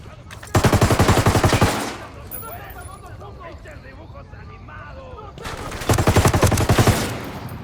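Ghost Recon Wildlands firefight: two loud bursts of rapid automatic gunfire, each lasting over a second, separated by a quieter stretch with voices talking over the shooting.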